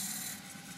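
A spindle gouge scrapes against the rim of a spinning cross-grain wooden box on a lathe, giving a brief, steady rubbing hiss.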